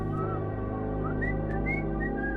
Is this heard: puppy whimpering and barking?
no